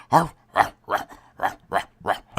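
A man on a radio call-in show imitates a dog, voicing seven rhythmic, evenly spaced barks that sound clearly human.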